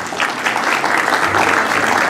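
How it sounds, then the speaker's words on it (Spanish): Loud, steady applause from an audience at a municipal award ceremony in Chincha, Peru, where a local dancer receives a recognition; dense clapping fills the whole stretch with no break. "Fuertes aplausos."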